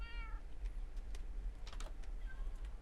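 A cat in Minecraft gives one short meow at the start, followed by scattered soft clicks like keyboard typing against a low background hum.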